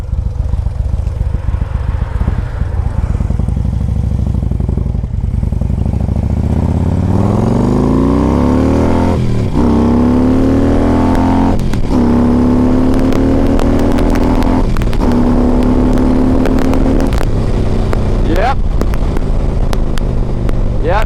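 A 2008 Harley-Davidson Ultra Classic 105th Anniversary motorcycle engine runs loud and close on a test ride, rising through repeated revs and gear changes, with its pitch climbing and dropping several times under steady road and wind rumble.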